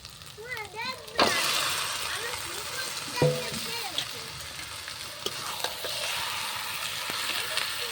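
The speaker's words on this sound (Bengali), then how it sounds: "আমি এখানে কিন্তু চিকেনটা দিয়ে দেবো" Marinated chicken leg pieces drop into hot spice masala with a sudden burst of sizzling that settles into a steady fry, broken by stirring clatters, with a voice talking faintly near the start.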